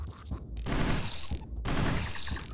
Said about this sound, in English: It's like a AK-47. It actually just burst fires it.